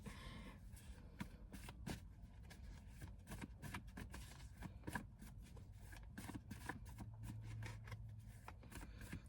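Tarot cards being shuffled give off quick, repeated papery slaps and riffles, soft and close, in an uneven rhythm with no talking.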